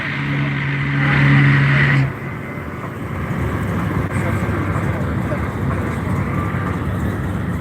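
Super Pro drag race cars line up at the Halloween Classic drag strip for a jackpot gambler race, with engines droning and a loud rising surge early on, then steady rumbling idle under ambient noise.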